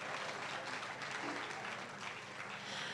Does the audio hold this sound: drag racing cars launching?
no